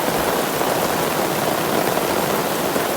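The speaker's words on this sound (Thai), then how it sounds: "เพื่อนๆตอนนี้ฝนตกแล้วนะครับ" Heavy rain pours down in a dense, steady hiss, unbroken and loud throughout, with no voices, at a campground beside a tent.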